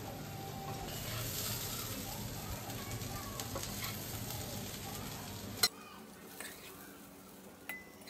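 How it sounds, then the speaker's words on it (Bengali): Bhuna khichuri is tipped from a hot pan into a pressure cooker, a steady close sizzle with scraping and clinks that cuts off sharply and leaves a few faint metallic taps. "এবার কুকারের মধ্যে এটা ঢেলে দিচ্ছি"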